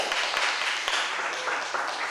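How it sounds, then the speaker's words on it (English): A small audience at a poetry reading claps briefly, a modest scattered patter of hands that stays fairly even over about two seconds. "Let's a round of applause for Joyce"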